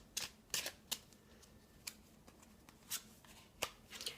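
Tarot cards shuffled and drawn by hand, heard as a series of sharp riffling snaps and soft card slides, close and fairly quiet, with no voices.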